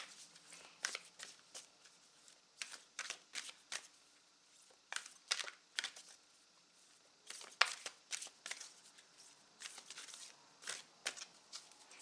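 A large unicorn oracle card deck being shuffled, with repeated crisp riffling bursts in irregular runs, close and fairly quiet, with no talking.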